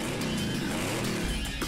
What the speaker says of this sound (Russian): Пристегнитесь и заводите мотор.